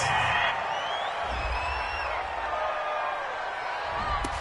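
Home crowd at a Texans at Jaguars NFL game reacts to a referee's flag on an incomplete pass, a steady broad stadium roar with cheering that holds for several seconds, with no talk over it.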